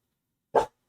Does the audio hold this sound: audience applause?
no